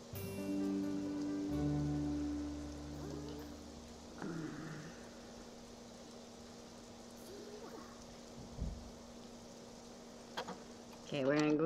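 Rain falls on a garden, a steady soft hiss that runs the whole time, with tonal sounds near the start and a few faint knocks and a voice near the end.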